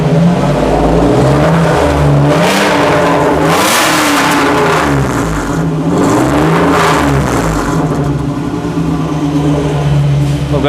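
A modified rally car engine revs hard through a motorsport exhaust, loud and close, with repeated rising and falling surges of throaty roar.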